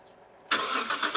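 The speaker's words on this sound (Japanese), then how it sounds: "エンジンかけましょう。" After a quiet moment, a Nissan Skyline GT-R BNR32 engine cranks and catches with a sudden loud burst, then churns unevenly as it fails to start first try.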